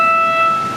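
A train's horn sounds at a railway crossing near a station in the Philippines. A loud, sustained tonal blast holds steady for under a second, close and alone, with no talking.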